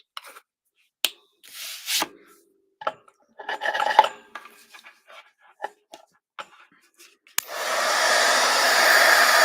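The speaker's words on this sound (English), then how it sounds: "now we're going to grab our heat gun and expose our" After a series of scattered clicks, taps and rustles, a heat gun switches on and blows hot air with a loud steady rushing roar at the end, with no talk.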